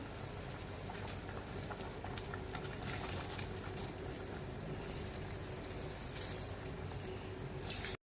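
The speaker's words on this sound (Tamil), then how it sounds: "கொதி வந்து இப்போ அஞ்சு நிமிஷம் ஆச்சு நல்லாவே கொதிச்சிருச்சு" Water boils in a clay pot for prawn biryani, a steady bubbling hiss with scattered pops and crackles, continuous and moderately quiet for several seconds without talking.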